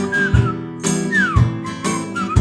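A person whistles a cheerful melody in short bright phrases with sliding notes over a backing of rhythmic music with regular beats.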